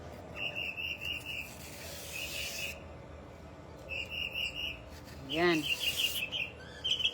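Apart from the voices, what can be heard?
bird singing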